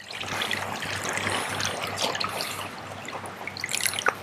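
Water trickles and drips steadily while being mixed into a fungicide solution for soaking Haworthia plants after rerooting, a continuous close liquid sound with small splashes and a few sharper drops near the end.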